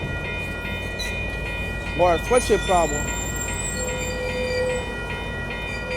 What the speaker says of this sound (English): These trains are going slowly due to a PTC problem or something